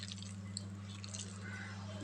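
Water drips and splashes softly as a hand is dipped into a bowl while kneading ground-nut dough in a kitchen, small wet plips over a steady low hum, close and quiet.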